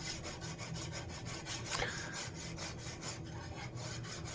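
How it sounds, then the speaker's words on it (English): A hand file scrapes along a Norwegian seax knife blade in regular back-and-forth rasping strokes, close and steady, with no one talking. "More filing, more filing."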